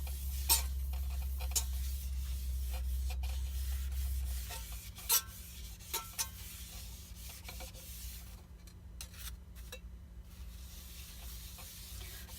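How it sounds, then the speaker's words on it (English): Oil is rubbed into a hot, smoking cast iron pan, a soft continuous scrubbing rasp with faint sizzle and occasional light taps, close and quiet, with a low hum under the first few seconds. "you just want to continue rubbing that oil down into that pan"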